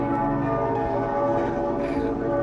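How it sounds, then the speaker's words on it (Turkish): Church bells ring without pause for Sunday mass in Strasbourg, their tones sustained and overlapping in a loud, continuous peal with no voices over it. "Bugün pazar ayini olduğu için herhalde 5 dakikadır çan çalıyor aralıksız."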